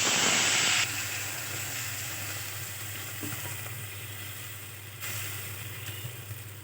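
Steady sizzling and hissing of a ground paste frying in hot oil, loud at first and then settling into a continuous crackle.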